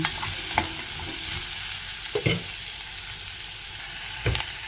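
Asparagus sizzling in a little oil in a pan, a steady frying hiss broken by a few scraping stirs of the spatula, heard close up with no talking.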